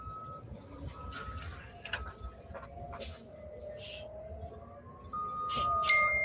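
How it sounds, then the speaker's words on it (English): A bus passing near a stadium construction site in Las Vegas, a low engine rumble with hissing and squealing brake tones, intermittent clanks and distant site noise rising and falling over several seconds. "We got a bus."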